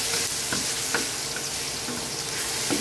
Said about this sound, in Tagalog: Isa-gisa lang po hanggang sa mag-brown.